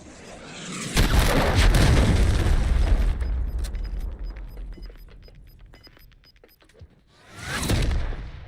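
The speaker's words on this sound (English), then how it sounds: "Missile incoming." A missile explodes in a first-person shooter match, with a loud booming blast about one second in that rumbles for several seconds and then fades, followed by a second swelling burst near the end.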